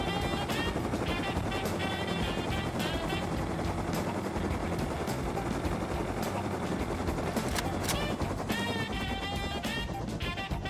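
Helicopter in the survival game Rust, a steady loud rotor and engine drone filling the whole stretch with dense busy texture, some sharp clicks or shots scattered through, no voices.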